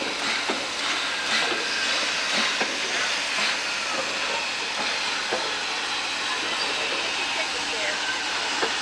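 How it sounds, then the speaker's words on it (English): Loud, continuous rushing rumble of a train going by close at hand, with faint voices underneath. "There's a black train."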